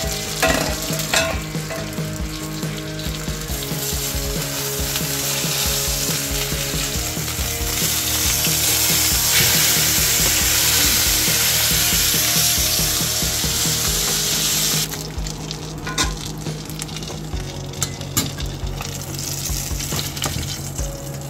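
Fish frying loudly in a hot pan for a Filipino sarciado, a dense steady sizzle with crackles and occasional scraping of a utensil against the pan, no talk.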